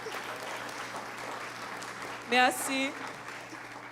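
Church congregation applauding during a worship service in Haiti, steady crowd clapping throughout, with a short spoken word over it near the end.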